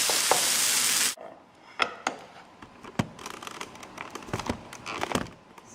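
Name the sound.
tofu Salisbury steaks sizzling, pressed together with a spatula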